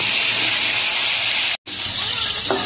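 Close, continuous hiss and crackle of whole pointed gourds frying in hot oil, broken by one short cut to silence midway, with a brief clink of a spoon near the end.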